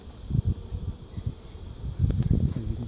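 Bees on a birdhouse hive box make a low, close buzzing that swells and fades, with louder passes near the start and again toward the end over faint outdoor background.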